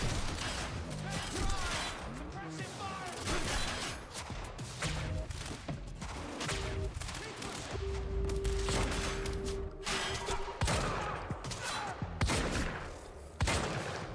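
Shotgun blasts and other gunfire in the action video game Quantum Break, dense, loud combat sounds with music and effects layered over repeated shots.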